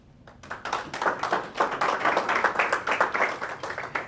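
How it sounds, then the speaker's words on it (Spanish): A church congregation claps after the preacher's call, a close burst of rapid, fairly loud hand claps that starts after a brief pause and continues steadily to the end. "Un aplauso para Cristo."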